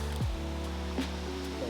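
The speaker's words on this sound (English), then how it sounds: "you're only coming to see a waterfall" Cascada El Salto, a waterfall near Puerto Vallarta, Mexico, roars as a steady, broadband wash of falling water close by, continuous and unbroken throughout.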